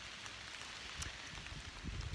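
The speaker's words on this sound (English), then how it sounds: "I think it'll be fun even though it's raining" Rain falls during a late October hike, a steady soft hiss of drops landing on surfaces nearby, with no voices.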